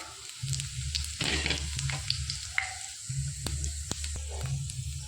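Whole cinnamon, cloves, cardamom and cumin seeds hit hot oil in a pan, giving a close, steady sizzle with bursts of crackling and spatter and a few light stirring clinks.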